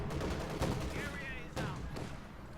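An Ostwind anti-aircraft tank firing in Company of Heroes 2, rapid bursts of cannon fire with sharp reports in a busy battle mix, heard under a commentator's talk.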